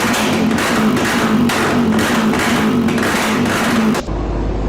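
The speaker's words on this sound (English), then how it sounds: "as the engine's revving down, you can hear pops" A stock Yamaha XT660R single-cylinder engine revs steadily and loud and close, its exhaust droning with a pulsing rhythm, then cuts off abruptly near the end; distinct exhaust pops are not clearly separable from the roar.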